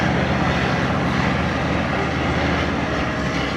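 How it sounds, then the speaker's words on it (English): Vintage First World War biplanes perform a close-formation airshow display at Duxford, their engines and propellers droning steadily and loudly without a break, no voices over them. "aeroplanes, with the ducking and the diving and the very close formations"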